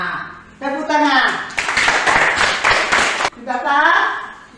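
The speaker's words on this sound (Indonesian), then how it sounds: "Tepuk tangan." A school class clapping hands in a maths lesson, a burst of brisk clapping lasting under two seconds, with a teacher and children talking before and after it.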